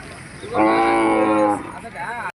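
Bulls at a cattle market in Gadag give one loud, drawn-out low moo lasting about a second, with a steady crowd murmur around it.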